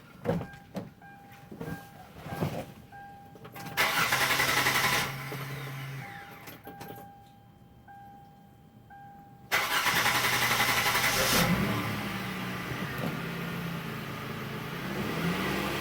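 A 2007 Kia Sedona minivan engine cranks and turns over after a fuel pump replacement, catches and idles, with a second burst of cranking or revving; mechanical clicks and hum in between, no talking.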